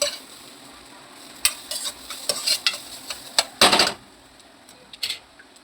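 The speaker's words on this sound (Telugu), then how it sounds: "అది బాగా ఫ్రై చేసుకోవాలి మనం నెయ్యిలో" Grated carrots frying in ghee for carrot halwa, a soft low hiss beneath a handful of scraping stirring strokes and utensil clicks against the pan, close by.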